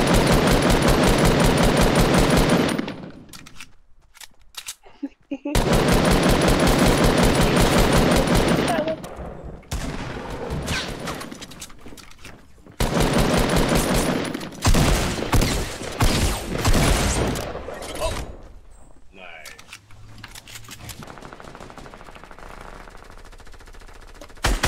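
Rapid bursts of automatic gunfire from a Fortnite match, loud and dense, arriving in several long volleys separated by short quiet gaps and followed by quieter scattered shots with voices talking underneath.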